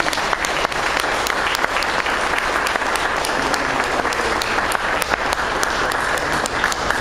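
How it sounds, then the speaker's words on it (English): A congregation at a Spiritual Hour church service applauds Charlie, a loud, sustained bed of many people clapping with sharp individual claps standing out across the full seven seconds. "Let's applaud Charlie, if you would, please"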